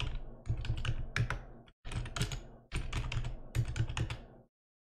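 A password being typed on a computer keyboard, with quick bursts of close, crisp key clicks broken by short pauses and ending in silence.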